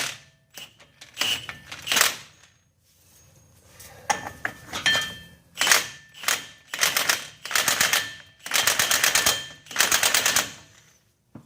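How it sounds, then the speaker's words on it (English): Pneumatic impact gun rattling on a Dodge Ram 2500/3500 6.7 Cummins front axle shaft U-joint: a series of short and longer hammering bursts, loud and close, separated by pauses, with no talk. "If you use the impact gun, do this, do it on low speed and stop and check it"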